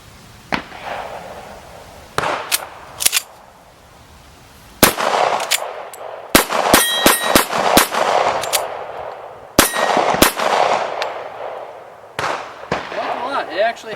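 Sharp, loud gunshots from a Colt Lightweight Commander 1911 pistol ring out in irregular bursts, single reports and quick pairs, each with a metallic clang and echo tail, over an outdoor background.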